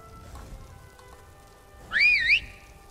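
A single rising-and-falling whistle call sounds at mid-volume from a horse whistle in Skyrim, the video game, standing out briefly over a quiet ambient bed.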